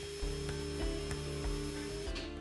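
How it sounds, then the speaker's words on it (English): A small drill whirs steadily up close, its bit grinding into a thin plastic Easter egg at the mold injection point with a few rhythmic catches and pulses as it cuts. "take your drill bit and drill through one of the areas where the mold was injected"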